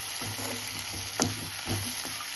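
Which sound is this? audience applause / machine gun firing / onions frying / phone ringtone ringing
onions frying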